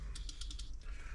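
Small clicking and ratcheting from the clutch mechanism of a New Home 508 sewing machine as it turns, a quick run of about six crisp, evenly spaced ticks at close range, followed by a softer mechanical whir.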